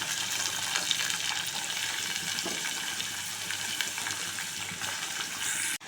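Bobbarikaya (cowpea) beans frying in a pan with a steady, busy sizzle and hiss that holds evenly throughout, close and fairly loud, with no talking.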